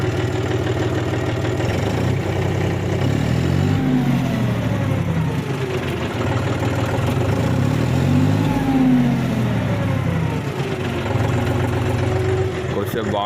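A farm vehicle's engine, started after sitting unused for 15 to 20 days, runs with a steady loud rumble and rises and falls in pitch as it is revved a few times, close up, with some voices under it.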